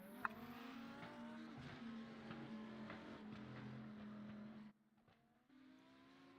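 GT3 race cars lap Sebring International in a racing video game, a faint, steady engine drone with shifting pitch that drops away briefly near the end, then returns.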